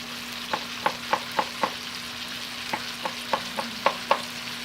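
Tomatoes cooking in a pot for a tomato and egg dish give a low steady simmer, punctuated by a dozen or so sharp popping bubbles in small irregular clusters, close by, with no talk.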